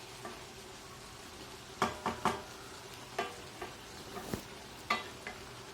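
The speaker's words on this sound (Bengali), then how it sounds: "মূলা, শিম, আলু, বেগুন সব কিছু মিলিয়ে এখানে আমি শুটকির তরকারিটা বসিয়ে দিয়েছি। এটা ভালো করে কষিয়ে নিব।" A Bangladeshi dried fish curry with radish, beans, potato and eggplant cooks in a pot, with a faint low sizzle broken by several close spoon scrapes and clinks while stirring.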